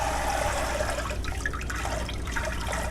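Water runs and splashes in a kitchen sink during washing up while cheesy mashed potatoes are being made, a close, steady gushing wash with small splashy variations throughout the short stretch and no talk.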